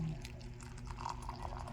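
Freshly boiled blue ternate herbal tea being poured, a steady liquid splash and trickle heard close by, continuous for under two seconds with no talking.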